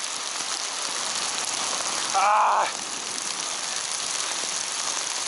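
Steady rain hisses on a surface throughout while walking, with a brief brighter burst of spatter or gush near the middle.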